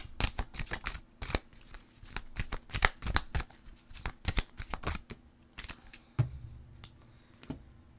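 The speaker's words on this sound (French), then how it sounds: "je vais aller vous chercher une carte pour vous" Oracle cards are shuffled by hand, a rapid series of close riffling flicks and slaps in bursts, easing into a quieter stretch with a low hum near the end; no talking.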